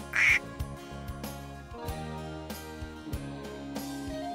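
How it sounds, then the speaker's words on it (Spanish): A duckling gives a single sharp, close quack at the start, followed by a light musical backing without further calls. "¡Un patito!"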